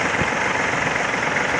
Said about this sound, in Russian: Работает ровно, очень мягко двигатель работает.